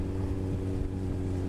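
Suzuki Hayabusa motorcycle engine held at 5,500 RPM in fourth gear above the speed limit, a steady loud drone with strong tonal harmonics and wind rush, no talking.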